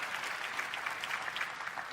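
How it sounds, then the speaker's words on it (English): Audience applause at a large developer keynote event, a dense steady wash of many hands clapping throughout, fairly even in level with no talk over it. "clap if you want"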